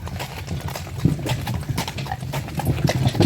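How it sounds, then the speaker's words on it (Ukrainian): Draft horses' hooves clip-clopping steadily on a hard surface, fairly close, with an occasional faint whinny in the background. "Коні під роботу такі моцні коні."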